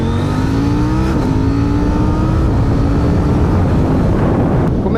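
A KTM 790 Duke naked motorcycle's twin-cylinder engine, rated at 105 horsepower, revs loudly and close with rising gear-shift pitch steps and wind buffeting, no voices.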